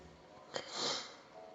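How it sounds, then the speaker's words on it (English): A single short sniffle close up, a quick breathy intake followed by a softer nasal hiss, against quiet room tone. "Pardon my sniffles."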